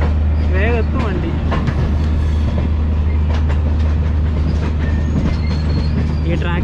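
The Himsagar Express runs along the tracks near Hazrat Nizamuddin, a loud, steady rolling rumble with metallic squeals and rattles throughout, faint voices mixed in.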